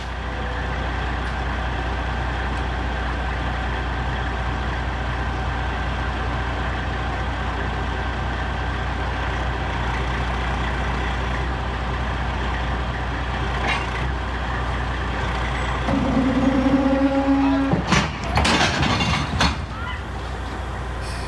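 A heavy truck rolling away after its brakes release, pushing a tow vehicle toward a tree: a steady low engine rumble throughout, then a rising whine, a burst of air-brake hiss and scraping clatter near the end.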